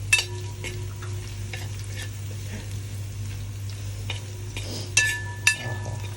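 Native ginger and garlic frying in a pan, a steady close sizzle with occasional spoon-stirring clinks and scrapes, and no talking.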